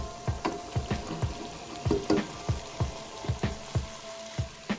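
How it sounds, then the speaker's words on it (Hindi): Okra frying in oil with a meat masala gives a steady soft sizzle, broken by regular clinks and scrapes every half second or so as the pan is worked. "यहाँ पे इसमें भिंडी ऐड कर देंगे।"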